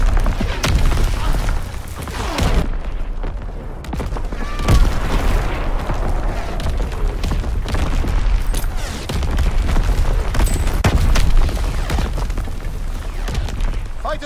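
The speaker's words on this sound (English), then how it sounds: "Incoming enemy artillery. Get to cover." Enemy artillery strike in the World War II shooter Call of Duty: WW2, with heavy booms and bursts of gunfire rolling through a loud battle din, several sharp impacts standing out over a continuous roar.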